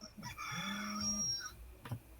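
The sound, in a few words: rooster crowing alarm ringtone on a mobile phone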